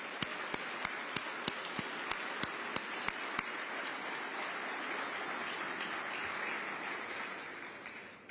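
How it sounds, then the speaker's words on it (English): Audience at a Veterans Day event in New York City applauding, a dense sustained wash of clapping from a large crowd with a few sharp, evenly spaced pops early on. "Let's just give a round of applause to everyone who was here for us."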